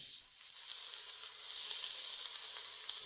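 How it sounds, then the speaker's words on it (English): Onions salted and sautéing in oil in a pot give a steady, close, hissing sizzle with faint crackles throughout, no voices. "now I'm going to saute all the onions in there"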